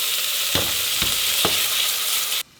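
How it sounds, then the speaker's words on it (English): Steady hiss of tomatoes frying in hot oil, broken by three soft stirring scrapes, then it cuts off abruptly near the end. "So you're gonna hear a little bit of sizzling."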